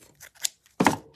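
Scissors cut cheesecloth in a few brief, close snips, the last one the fullest, with quiet gaps between them.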